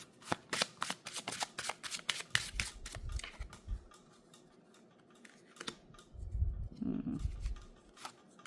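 Tarot and oracle cards shuffled by hand: rapid, crisp riffling flutters in quick bursts, then softer shuffling and handling noises, close and fairly quiet, with no talking.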